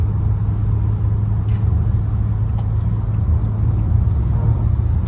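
A BMW M6 with a V10 engine drives along a road and pulls out to overtake, heard as a steady low rumble of engine and road noise from inside the car, with no talk.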